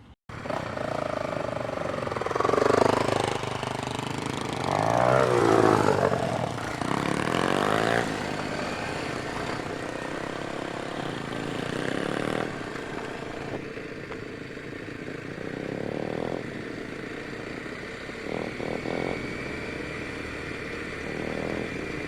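Apollo RFZ 110 dirt bike, fitted with a swapped PZ19 carburetor, out on a trail test ride: a nearby buzzy single-cylinder engine revs up in repeated surges, then settles into a steadier, softer drone over wind rumble.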